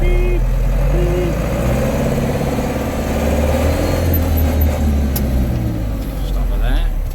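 A Case 885 XL Super 2 tractor engine idling and running steadily while the machine reverses straight back, a loud, close diesel drone with someone talking over it.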